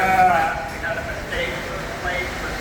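Sheep bleating in a barn at a state fair while being sheared, loud wavering cries near at hand, repeated several times over a busy crowd background with some talk.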